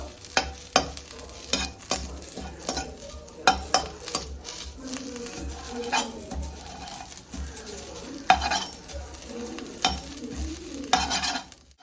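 Neem leaves are stirred dry in a hot pan, with repeated sharp scrapes and clatters of a spatula against metal over a light crackling sizzle, close and alone.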